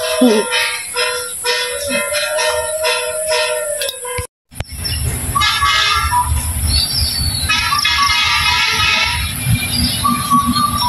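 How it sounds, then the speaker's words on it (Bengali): A train rolls past close by in front of a house, with rumbling wheels and high metallic squeals; the noise briefly drops out, then the heavy clatter resumes. "সকালে ট্রেন যাইতেছে গা"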